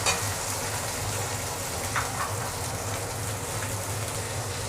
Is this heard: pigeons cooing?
no